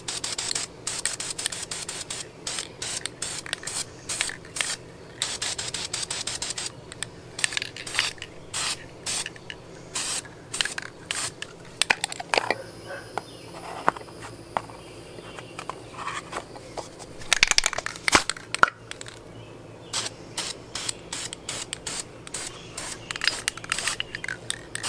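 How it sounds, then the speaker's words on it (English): Primer being spray painted onto a Mini Cooper brake duct inlet, a steady hissing spray in repeated bursts with short pauses and faint handling rubs, close and moderately loud, with no talking. "so that was our 3rd coat of our primer"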